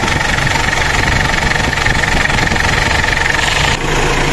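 A Mitsubishi Pajero 4M40 diesel engine idles steadily at close range, a continuous low rumble with a rough, knocking texture and no pauses.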